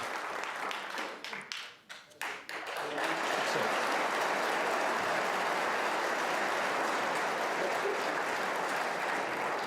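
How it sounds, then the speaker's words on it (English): A snooker crowd at the 2024 World Championship applauds a frame-winning break, starting with a few sharp claps that swell into steady, sustained applause filling the arena. "Waiting for the applause to subside."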